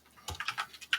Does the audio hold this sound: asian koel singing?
no